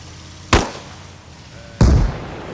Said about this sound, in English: Don't think I managed to hit that Humvee with the UGL.